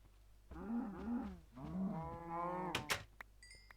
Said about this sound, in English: There's a cow. Hi cow.